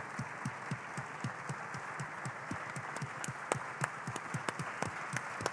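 An audience applauds an award winner at an African young entrepreneurs' prize ceremony, with steady, distinct individual claps in an irregular rhythm, moderately quiet and continuing throughout.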